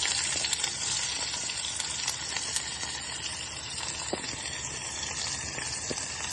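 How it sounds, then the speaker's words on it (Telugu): Onions fry in oil for vegetable upma, giving a dense, even sizzle that stays loud and steady throughout, with a few faint stirring ticks. "ఉల్లిపాయలు వేసేస్తాను."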